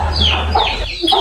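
A chicken clucks in short close bursts over a low background hum, loud and near, with no talk.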